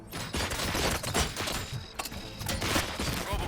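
Gunfire in the video game RoboCop: Rogue City, loud rapid bursts of shots and impacts that keep going almost without a break, with heavy low booms mixed in.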